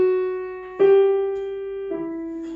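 Sustained sung or played tones overlap: a held pitch is joined by new notes in two steps, forming two stacked minor thirds within one octave that ring and slowly fade.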